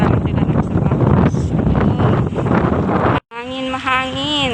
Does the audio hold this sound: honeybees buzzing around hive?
no